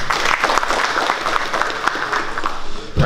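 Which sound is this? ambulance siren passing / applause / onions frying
applause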